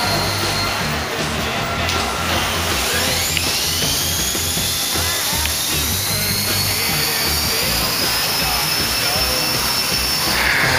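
A Typhoon 450-class RC helicopter's blades spin up on a test in a workshop, giving a loud, continuous high-pitched whine that rises in pitch and holds steady throughout, with a mechanical buzz underneath.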